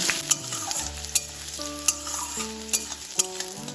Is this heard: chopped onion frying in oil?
yes